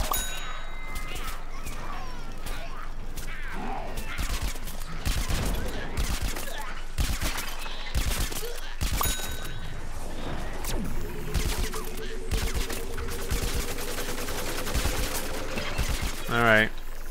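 Plants vs. Zombies: Garden Warfare 2 gameplay brings rapid, repeated gunfire with metallic clangs and dings, shots crackling in uneven bursts, then a whirring mechanical tone near the end.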